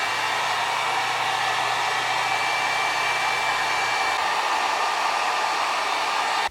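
A heat gun blows steadily on vinyl wrap being applied to a Stevens 67E shotgun, a constant close airy whine with a low motor hum that drops slightly partway through.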